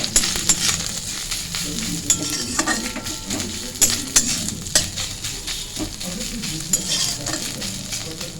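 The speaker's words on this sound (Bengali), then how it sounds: "নারকেল কুড়ো একটু ভেজে নিচ্ছি নারকেলটা" Grated coconut fries in a pan with a steady sizzle, broken by repeated scraping and clinking of a spatula stirring it, close and unaccompanied by talk.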